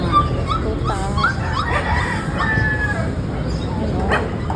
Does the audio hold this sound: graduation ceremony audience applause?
no